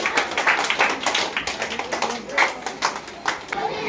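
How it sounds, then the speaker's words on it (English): A crowd claps and taps for a school quiz team at a Science Day event, giving a dense, busy round of applause that runs the whole few seconds, with talk mixed in. "Claps to them."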